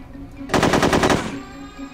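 Rapid automatic gunfire in the video game No One Lives Forever 2, a loud burst of about three quarters of a second with a steady hammering rhythm, standing alone over a low game hum.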